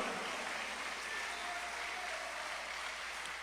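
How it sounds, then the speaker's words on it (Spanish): Congregation in a church applauding together, a dense continuous wash of clapping at steady strength with no talk over it. "Puede darle palmas al que vive, hermanos."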